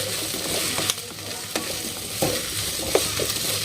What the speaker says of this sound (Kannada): ಆ ರೀತಿ ನಾವು ಎಣ್ಣೆ ಒಳಗೆ ಫ್ರೈ ಮಾಡ್ಕೊಂಬಿಡೋಣ್ರಿ.